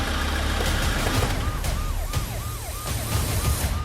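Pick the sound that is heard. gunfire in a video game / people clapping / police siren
police siren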